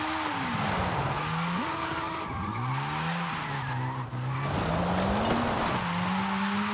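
A tiny car, the world's smallest, drifts in Forza Horizon 5 with a continuous engine drone that rises and falls in pitch, tire skid hiss running steadily underneath, loud and close, with no talking.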